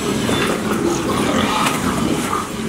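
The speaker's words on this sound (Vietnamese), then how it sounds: "Con heo." A pig grunts and snuffles steadily up close, a rough, noisy stream of sound at a constant loud level with no pauses.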